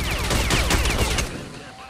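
Rapid chain gun fire in STALKER: Clear Sky, a dense burst of loud overlapping shots that carries on for over a second before cutting off into a quieter tail.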